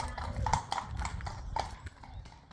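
Hooves of horses ridden along a road on an early morning clip-clop in a steady quick rhythm, close by and moderately loud, with faint background noise and a brief whinny-like tone.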